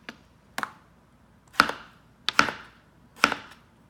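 A knife slices through a vegetable on a cutting board while a salad is prepared one-handed: five crisp, close chopping strikes with uneven gaps and no talking.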